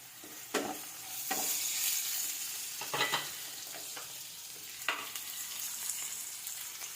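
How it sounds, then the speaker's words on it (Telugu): Curry leaves and mixed vegetables fry for veg fried rice, a steady pan sizzle broken by several sharp spatula scrapes and stirring clatters, close and alone. "ఇందులోనికి కరివేపాకు కూడా వేసేసుకుంటున్నాను."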